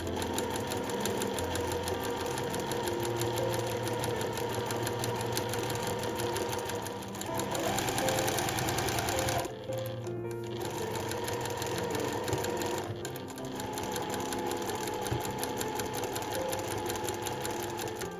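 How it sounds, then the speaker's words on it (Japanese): A sewing machine stitches gauze fabric with a steady, rapid mechanical whir. It pauses briefly twice, then runs on close and loud. "ミシンで縫っていこうと思います。"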